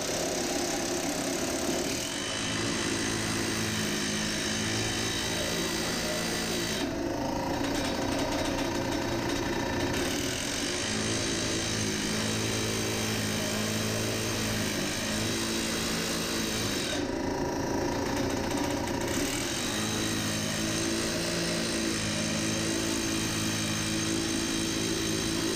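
A pneumatic drifter rock drill on a Maclean bolting rig hammers and roars continuously, loud and close, mudding up, with a harsh, dense clatter that briefly dips and returns a couple of times.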